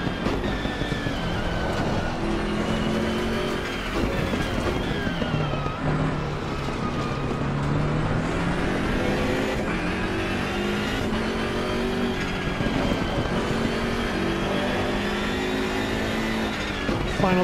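Race car engine in Assetto Corsa Competizione held at high revs late in a race, a continuous loud whine climbing and dropping through gear changes across the whole stretch.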